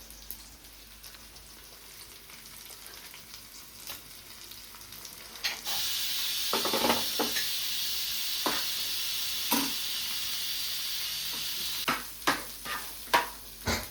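Ginger, garlic and green chilli frying for chicken biryani give a steady close sizzle that jumps louder as they hit the hot pan, with scattered spoon clinks and stirring scrapes near the end.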